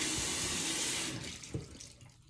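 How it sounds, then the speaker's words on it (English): Tap water runs loudly over hands under a faucet, then thins out and fades with a few splashes as the flow stops. "I'm gonna wash that off my hand."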